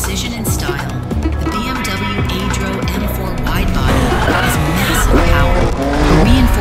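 A Porsche 911 in No Hesi races with a high engine whine and repeated tire squeals as it drifts through corners, loud and close, while a narrator talks over it throughout.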